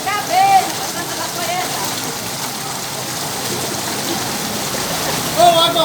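Water pours steadily over someone taking an outdoor bath during a hot spell, a continuous loud rushing splash that stays close for the whole stretch.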